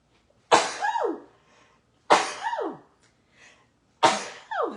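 Three sharp sneezes, evenly spaced, each a loud burst with a trailing exhale, close to the listener with quiet between.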